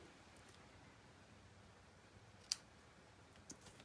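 Scissors give a single sharp snip through craft thread, a brief crisp click in a quiet room, followed by a couple of fainter small clicks.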